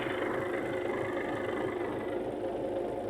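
A steady MTZ-82.1 tractor engine runs continuously at idle during a capstan winch test, a constant low rumble with mild vibration and no talking.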